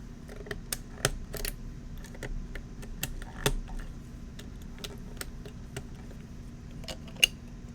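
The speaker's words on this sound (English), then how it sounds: "the space bar sounds really freaking good" Sharp, fairly quiet clacks come from the space bar of a mechanical keyboard fitted with Densus x KLC parts in an Ingot66/FC660c-style board. The strikes are irregular, some louder than others, over a low steady hum.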